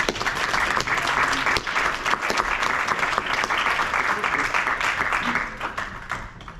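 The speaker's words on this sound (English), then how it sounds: "We can give him a round of applause." Dense, steady applause from a large crowd welcoming a speaker at a book talk, many hands clapping continuously, fading slightly near the end.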